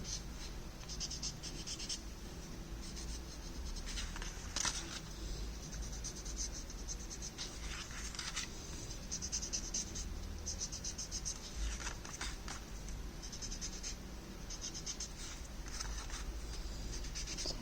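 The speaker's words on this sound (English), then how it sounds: "So wherever I have put my graphite, I'll just slightly smoothen it." Graphite is smoothed over smooth paper with faint, steady soft rubbing and scratching strokes, quiet and close, with no talking.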